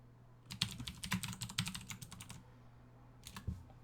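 Fingers type rapidly on a computer keyboard in a quick run of clicks lasting about two seconds, then pause before a few last keystrokes, close and fairly quiet.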